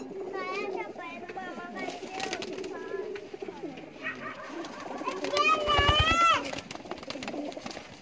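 Black Teddy breed pigeons coo softly in repeated rolling calls at a loft, mixed with a busy background of chatter and children's voices, and a louder burst of cooing and fluttering toward the end.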